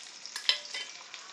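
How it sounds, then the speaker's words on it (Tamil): Shallots and coconut fry in a pan for tomato chutney, a close hiss of sizzling oil broken by sharp scraping bursts as a spoon stirs the mixture, with no voices. "சின்ன வெங்காயம் நல்லா வறுபட்டுருச்சு. அதிலே தேங்காயும் போட்டுடலாம்."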